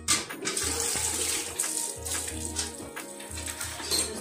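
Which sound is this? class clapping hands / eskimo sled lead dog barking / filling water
filling water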